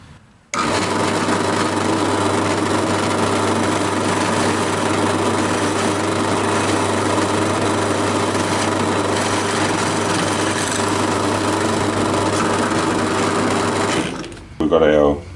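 An 8.5 mm drill bit is driven through a hole by a power drill, making one long, continuous, close motor whir that starts after a brief pause and stops just before a few seconds of handling noise.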